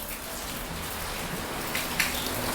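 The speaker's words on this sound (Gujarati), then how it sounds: "અને જો વરસાદ કેવો આવે છે" Heavy rain driven by strong storm winds falls in a steady, dense hiss with pattering drops, growing slightly louder toward the end.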